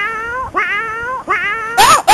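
A cat gives several loud, drawn-out, rising and falling meows in close succession, harsh and caterwauling, with a couple of sharp hissy bursts at the end.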